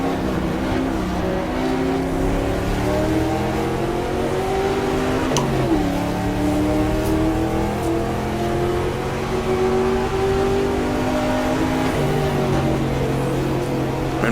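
A 1966 race car engine howls steadily in the GTR2 racing game at the Daytona 24 Hours, Ford against Ferrari, with rising and falling revs through gear changes and corners, loud and continuous for the whole stretch.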